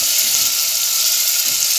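Kofta frying in hot oil with garlic going in, a steady loud sizzle and crackle filling the whole stretch without pause.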